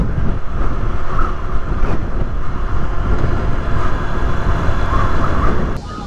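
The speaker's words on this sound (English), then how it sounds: "It's a bit windy, so I'll hopefully try and get the wind taken off the audio in post-production." Strong wind buffets the microphone on a windy coastal bridge in Vietnam, a loud, continuous low roar that drops away abruptly near the end.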